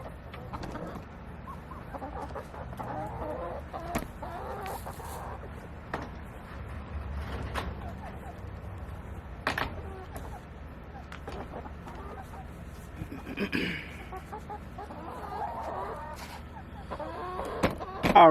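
A flock of 18-month-old chickens clucks softly and steadily, with scattered louder clucks over a low background murmur.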